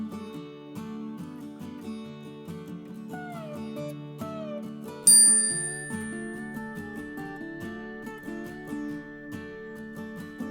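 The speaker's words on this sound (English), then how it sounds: "When you can no longer hear the chime, you're going to think about taking a big breath." A mindfulness chime strikes once with a bright, clear ring over soft melodic background music, then slowly fades away into a long sustained tone.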